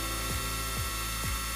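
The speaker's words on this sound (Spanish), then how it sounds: "cuando se ve asomar el taladro por la parte trasera, que nos sirve de marca, pues se remata el agujero por el otro lado" A power drill bores a hole through wood for a nest box, giving a steady, close, droning whir with a repeating downward sweep roughly every half second, with no talking.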